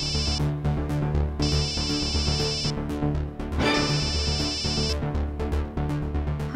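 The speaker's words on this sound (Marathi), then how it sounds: "अहो फोन वाजायला उचला की." A mobile phone ringing at home: a loud electronic ringtone repeats in regular bursts with a brief pause between them over a steady backing tone, with no one talking.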